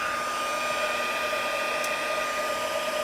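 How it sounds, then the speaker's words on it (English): A heat gun blows steadily at close range to melt embossing powder on a stamped card, a continuous airy whir with a constant motor hum that holds level throughout, with no talk. "just going to put on the heat gun, which will be a little noisy momentarily"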